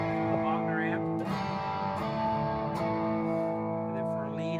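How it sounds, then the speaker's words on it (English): Electric guitar played through a Bogner amp with light distortion, sustained chords ringing steadily and close, with a faint effects shimmer over a continuous tone. "A little bit of distortion with the Bogner amp."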